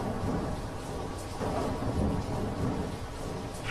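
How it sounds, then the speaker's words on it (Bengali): A heavy thunderstorm: a dense, constant roar of pouring rain mixed with low rolling thunder, loud and unbroken throughout. "পৃথিবী তখন ঝড় বৃষ্টিতে ভেসে যাচ্ছে"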